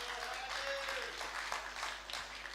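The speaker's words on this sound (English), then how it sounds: "We give a round of applause" Brief, fairly quiet applause from an audience at a client party, steady clapping throughout with faint tones and voices in the background.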